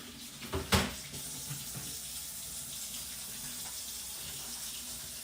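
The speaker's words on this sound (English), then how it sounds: "But first I'm just going to wash my hands." Hands are washed under a running kitchen tap: a steady hiss of flowing water after a brief splash near the start, close and moderately quiet, with nobody speaking.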